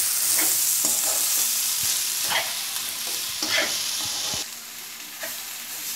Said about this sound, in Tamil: நல்லா இந்த மாதிரி கிண்டிட்டு